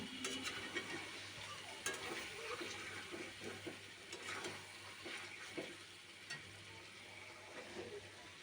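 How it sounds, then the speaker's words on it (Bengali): An onion, garlic and ginger paste with spices frying for a broiler chicken curry as it is stirred, giving faint, close scraping over a steady hiss and sizzle. "এখন আর একবার কষিয়ে নেব মশলাটাকে"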